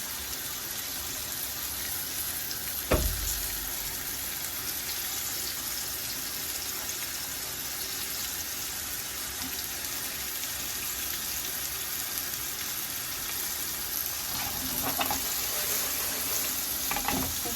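Continuous loud sizzling of fish frying in hot oil, with a couple of brief clinks and stirring noises.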